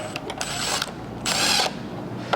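Ratchet with a 10mm socket working bolts on a BMW G42 M240i, with quick clicking ratchet strokes and short mechanical whirs, close and fairly loud, with no talking.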